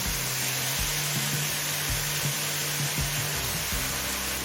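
Chicken browning in a pan as a ginger, garlic and green chili paste goes in, giving a steady, close, broadband sizzle with soft stirring knocks throughout.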